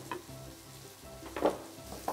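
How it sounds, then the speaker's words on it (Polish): Pork tenderloin sizzles steadily as it fries in oil in a pan, a soft, continuous crackle with a few louder pops, close up. "Na oleju będziemy smażyć?"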